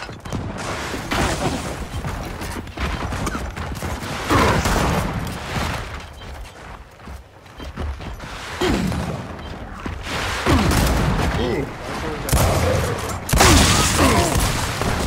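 Video game gunfire rattles in repeated bursts and sharp cracks, with a sniper firing from inside a barn, loud and continuous over a busy, noisy background.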